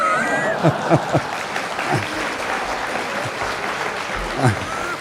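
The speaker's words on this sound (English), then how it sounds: "Please give me a round of applause." An audience at a formal ASEAN business council ceremony claps steadily under a public-address ambience, with a few sharper thumps and faint voices mixed into the continuous applause.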